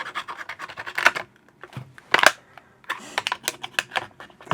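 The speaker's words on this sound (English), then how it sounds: "We have an X-Acto knife here. We can cut around the edges," An X-Acto knife cuts shrink wrap in a series of close, sharp scratching and crinkling strokes that come in irregular bursts separated by brief pauses, with no voices.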